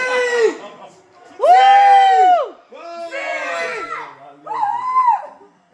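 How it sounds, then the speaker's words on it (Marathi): A crowd celebrates a Super Bowl final win with loud, close whoops and drawn-out cheering yells in several bursts, separated by brief lulls. "इथं फायनल जिंकल्यानंतरचा जल्लोष ऐका"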